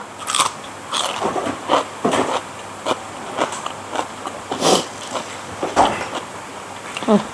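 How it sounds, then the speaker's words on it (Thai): Crisp fresh vegetables crunch loudly under repeated bites and chewing, close up, the crunches coming in an irregular rhythm over a few seconds. "ผักก็ยังกรอบ"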